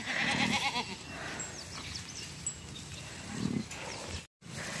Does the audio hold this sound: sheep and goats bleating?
yes